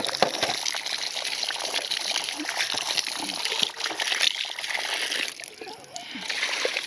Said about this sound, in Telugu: ఇప్పుడు ఈ గుంత గోబీని శుభ్రంగా కడిగేసుకుందాం ఫస్ట్.